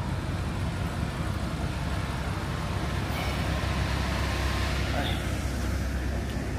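A BMW M850i with a twin-turbo V8 and all-wheel drive gives a steady, close engine and road roar that holds evenly throughout, with people talking over it at a driving event in Atlanta.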